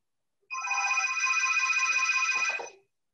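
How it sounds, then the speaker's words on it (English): A landline telephone rings once for about two seconds, a bright, trilling electronic bell heard fairly close and alone, cutting off abruptly at the end. "that's my phone"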